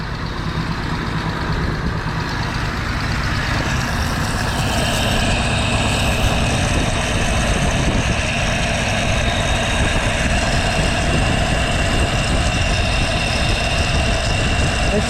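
Engine of a 1962 Willys Utility Wagon, run after sitting 28 years, fed only by fuel in the carburetor bowl, a loud steady idle with a rough low rumble and constant mechanical drone close by, no talking.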